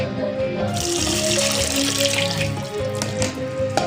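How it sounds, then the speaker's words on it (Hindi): Jaggery and milk syrup is poured into rice fried in ghee and oil, making a steady close liquid gush and splash that continues for several seconds with no speech. "अब इसमें ये जाएगा गुड़ और दूध वाला जो शीरा तैयार किया था।"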